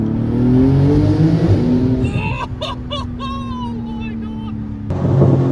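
A Porsche 911 GT2 RS (992) engine roars as it accelerates, rising in pitch, then shifts gears with brief pops before surging again, loud and close.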